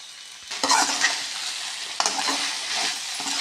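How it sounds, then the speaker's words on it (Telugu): Okra frying in a pan with salt and turmeric, stirred by hand: scraping strokes and bursts of sizzle come close and loud over a steady hiss, with no talk. "ఇలాగ వేసుకుండి కలిపేసుకోవాలండి. మొత్తం అంతా కలుపుతుంది."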